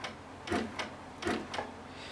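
An HQ Sweet Sixteen quilting machine stitching at a slow set rate: evenly spaced mechanical clicks, about four of them, sound close by against a quiet background.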